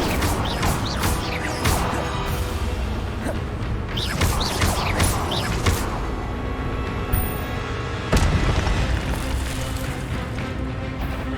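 Incendio fire spell blasts in Hogwarts Legacy, a steady run of crackling, whooshing combat effects with sharp crashes and bursts, loud and continuous throughout with game music beneath.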